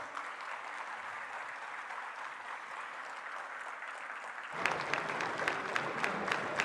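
Faint, steady applause from an audience at the India Mobile Congress 2023 opening in Bharat Mandapam, welcoming Prime Minister Narendra Modi, with a brighter burst of clapping swelling in the last couple of seconds.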